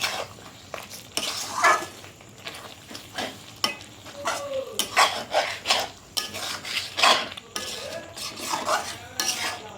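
Fried onions being stirred into chicken korma in a pan, with repeated scraping strokes of a spoon against the metal in an irregular rhythm over a soft sizzle, close and fairly loud, with no talking.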